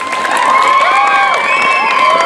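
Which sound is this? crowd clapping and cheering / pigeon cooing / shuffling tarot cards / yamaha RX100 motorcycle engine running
crowd clapping and cheering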